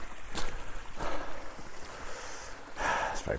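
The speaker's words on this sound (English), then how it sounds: "Babbling Brook." Running water of a small babbling brook on Dartmoor near Cosdon Hill, a steady rushing wash mixed with wind buffeting the microphone, outdoors and fairly faint.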